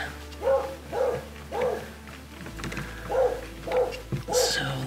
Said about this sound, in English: He barks at everything.